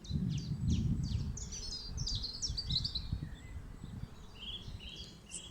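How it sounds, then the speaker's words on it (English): Birds tweet and chirp in rapid bright bursts on a hilltop beside the Cotswold Way, layered over a steady low rumble of wind or distant ambience. "you might be able to hear the birds tweeting"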